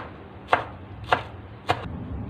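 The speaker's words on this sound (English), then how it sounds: "Chop some lettuce" A knife chops lettuce on a cutting board for a turnip salad, three sharp, evenly spaced chops about half a second apart, close and clear against a quiet room hum.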